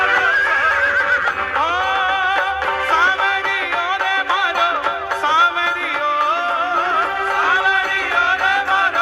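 Khatu Shyam's blue horse neighing: repeated loud, shrill whinnies over about nine seconds, layered with faint hoof clip-clop and no voices.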